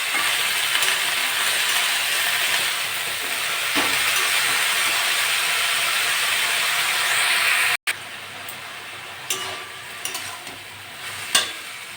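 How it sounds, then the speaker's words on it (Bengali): Greens added to a pan of fried shrimp for a potato-and-greens stir-fry give a loud, steady close sizzle, dropping after a brief break to a quieter hiss with scattered crackles and stirring clicks. "চিংড়ি মাছটা ভাজা ভাজা হয়ে গেছে আমি এবার শাকগুলো দিয়ে দেবো"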